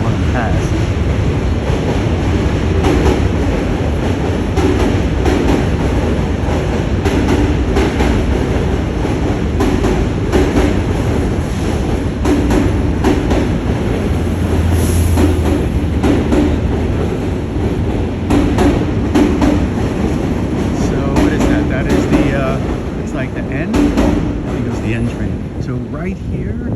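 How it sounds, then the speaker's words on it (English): A train rumbles past close by with a continuous heavy roar and rattling of cars, steady for the whole stretch. "you can hear the train coming"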